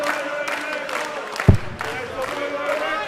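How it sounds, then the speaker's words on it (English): Darts crowd at the International Darts Open quarter-final cheering and clapping in a continuous noisy wash, with a sharp thud partway through. "Crowd getting more vocal"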